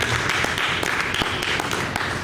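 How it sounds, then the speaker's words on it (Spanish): Church congregation applauding during a Spanish-language service, a steady wash of clapping with a few sharper claps standing out, moderately loud and continuous throughout. "Denle un aplauso al Señor."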